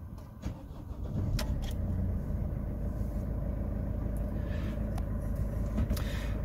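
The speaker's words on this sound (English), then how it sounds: "I'm going to try starting the motor" A Mercedes Vito van's engine cranks and catches after some faint clicks and key jingles, then settles into a steady, low idle close by.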